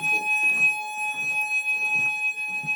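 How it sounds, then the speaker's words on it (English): A fire alarm in a block of London flats sounds loudly and continuously as a high steady tone, with voices and movement faintly underneath. "The fire alarm is going off at our cubicle flat, or at our flats in London, and it's quite noisy."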